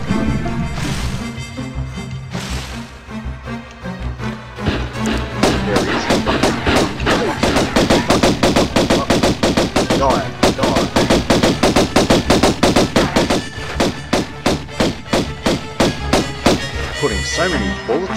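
Rapid automatic gunfire in Tomb Raider (1996), Level 4 Tomb of Qualopec, rattles off in loud repeated bursts of dense, evenly spaced shots over a droning background, pausing briefly before resuming several times.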